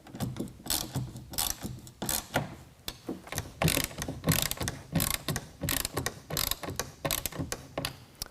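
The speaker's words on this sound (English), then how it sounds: "Then we can rotate the cover forward and lock down the rest of the clamps with a 1/2 inch." A ratchet with a 1/2 inch socket tightens the clamps of a Gator SR1 Pro roll-up tonneau cover on a 2021 Ford F-150, heard as close, rapid clicking bursts repeated in a steady back-and-forth rhythm.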